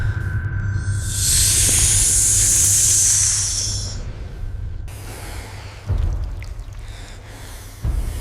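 A giant anaconda in a cave wakes with a loud, breathy hiss that swells for about three seconds, followed by low rumbling and a couple of dull thumps, presented as a story sound effect with no voices.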